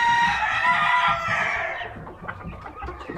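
A fighting rooster crows loudly and close by, a long strained call that trails off into a few rough clucks.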